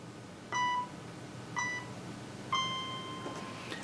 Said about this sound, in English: You'll hear 3 beeps.